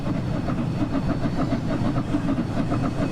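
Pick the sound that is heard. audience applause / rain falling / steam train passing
steam train passing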